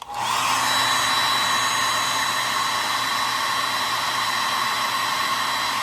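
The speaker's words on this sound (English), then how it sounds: "And we do it one more time with the hairdryer." A hairdryer switches on and blows steadily at close range, a constant loud whirring rush with no pauses and no talking.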